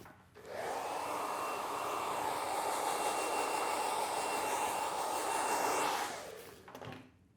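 A barber's blow dryer runs for about five seconds, blowing cut hair off a client, with a steady whooshing rush that starts and cuts off abruptly before a brief quieter puff.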